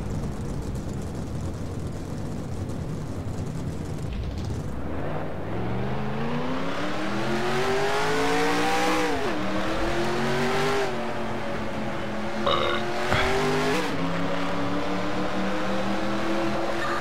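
Race car engines in NASCAR Racing 2003 scream and rise in pitch as they accelerate, shifting through gears with a high, whining roar that swells and drops repeatedly.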